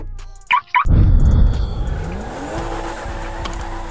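Car in GTA RP driving off with engine revving and loose, sliding handling, a sharp burst followed by sustained mid-level engine noise and a rising tone, close and fairly loud with no talking.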